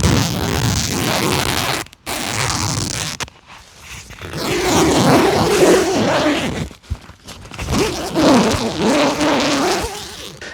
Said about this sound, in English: these zips do sound horrible